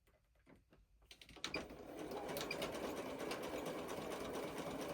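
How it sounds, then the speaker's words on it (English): A sewing machine stitches along the bottom of a fabric piece in a crafting project, starting after a few quiet handling taps and then running in a steady, close, continuous whir with no talk. "And we'll sew the bottom."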